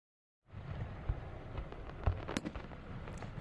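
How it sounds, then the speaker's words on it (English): Independence Day fireworks show in Indiana, heard outdoors as a steady rumbling wash of distant bursts and crackle, with a few sharper pops standing out. "there is something magical about being out here under the fireworks"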